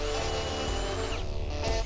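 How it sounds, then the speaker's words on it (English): A power drill bores pilot holes in plywood for an 8-32 tap on a workshop build, giving a steady, loud whirring drone that runs without a break and shifts slightly in pitch near the end. "Then I start drilling the pilot holes and chase those holes with the correct size bit for the 832 tap I'll be using."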